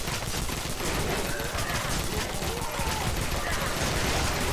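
Rapid nail gun fire in the co-op shooter Shadow Warrior 2, a dense, continuous fusillade of loud shots running throughout with no pause.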